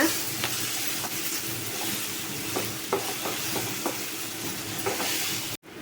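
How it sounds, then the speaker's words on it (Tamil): Ginger garlic paste and onions sautéing in a pan give a steady close sizzle and fry, with scattered clicks and scrapes from stirring throughout, ending in a brief dropout. "இஞ்சி பூண்டு பேஸ்ட்டோட பச்சை மனம் மாறுற அளவுக்கு வணக்கிக்கோங்க"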